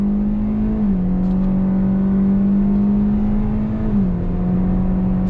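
A 2021 Hyundai Elantra accelerates out of a U-turn, its engine giving a loud, steady drone from inside the cabin that steps down in pitch twice as the gears shift.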